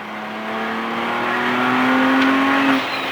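A race car's engine on track holds a steady, loud droning note, then the pitch climbs slightly under acceleration before cutting off abruptly as the driver brakes and shifts.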